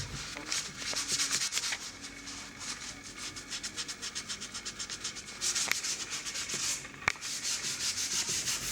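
A leather car steering wheel being hand-sanded, giving steady rhythmic scratchy strokes that repeat close and evenly throughout, with a couple of sharper scuffs along the way.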